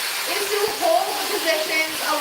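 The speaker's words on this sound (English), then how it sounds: "then hover diffusing, which is where you hover the diffuser around the hair." A hair dryer fitted with a diffuser blows a steady, airy whoosh while it hovers around wavy to curly hair, holding an even level close to the listener.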